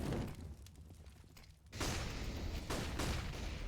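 Grenade explosion in a Counter-Strike match on the Nuke map, a quiet background stretch broken by a sudden loud burst with debris noise, followed by further sharp blasts.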